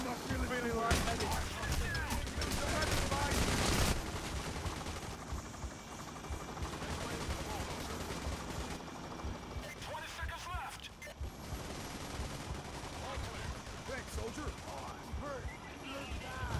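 Heavy automatic gunfire from the video game Payday rattles in sustained loud bursts, with shouting voices over the shooting and dense battle noise throughout.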